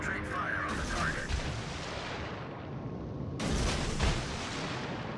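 Heavy naval gunfire from warships in a World of Warships battle, dense booming salvos rumbling continuously with a fresh burst of loud shots partway through.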